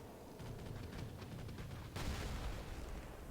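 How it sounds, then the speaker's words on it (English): A missile strike explodes amid ongoing battle noise and howitzer fire in the Rise of the Reds real-time strategy game, a dense rumble of blasts with a sharper burst partway through. "Oh, we have a missile strike by the marksman."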